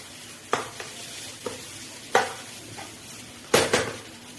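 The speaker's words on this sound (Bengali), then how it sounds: "ভালো করে মশলাগুলো এবার ভেজে নেব" Spice masala for chicken curry sizzles steadily in a pan while a spoon scrapes and stirs it in four or five distinct, sharp strokes spaced across the sound.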